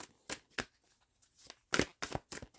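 Oversized tarot cards being shuffled in several quick riffling bursts separated by short pauses, close and crisp, no voices.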